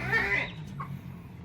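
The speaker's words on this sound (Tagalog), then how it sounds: "nakasilong yung ating mga kambing" Goats sheltering on a borrowed lot bleat once in a short, fairly close cry with farm background behind it.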